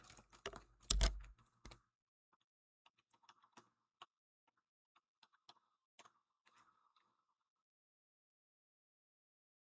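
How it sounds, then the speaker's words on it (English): Sparse, light computer keyboard taps at an irregular pace after a brief louder clatter at the start, with long quiet gaps between the clicks. "let me get my keyboard here"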